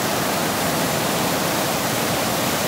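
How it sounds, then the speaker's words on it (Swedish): Huge masses of river water rushing through a gorge, a loud, dense, unbroken roar that fills the whole clip with no pauses. "Enorma vattenmassor som bara forsar hela vägen här."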